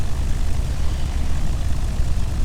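Simulated propeller aircraft taxiing at about 35% power in Microsoft Flight Simulator X near San Jose, a steady low engine drone with propeller buzz, continuous and even throughout.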